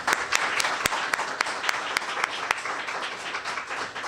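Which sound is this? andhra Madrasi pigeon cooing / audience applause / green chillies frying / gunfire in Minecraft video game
audience applause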